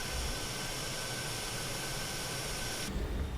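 An RJ85 airliner taxis under its jet engines in a flight simulator game, a steady broadband roar with a faint high whine, constant and close, ending in a sudden shift in tone.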